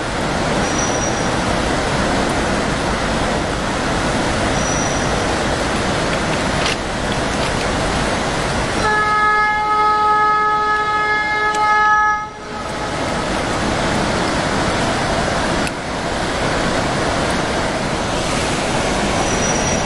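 A train roars past close by near Dudhsagar waterfalls with continuous heavy rumbling and wheel clatter, a high metallic squeal of wheels rising midway before the rumble carries on.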